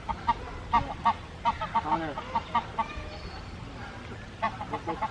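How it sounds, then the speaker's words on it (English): Geese and swans in a zoo's Birds of Eurasia exhibit honk repeatedly in loud, overlapping bursts, with several birds calling near and farther off in an irregular rhythm. "Goose and swans."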